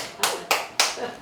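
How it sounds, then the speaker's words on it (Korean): Three sharp, evenly spaced hand claps ring out close by at a church prayer-meeting press conference, each a crisp burst with a short fade. "박수."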